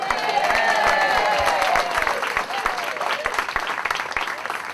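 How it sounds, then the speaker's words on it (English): Theater audience applause and scattered cheers after a community musical performance, a steady wash of clapping with a few whoops over it, slightly easing as it goes on. "Another applause for Fred Wanger."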